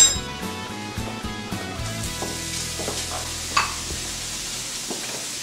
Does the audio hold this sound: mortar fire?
no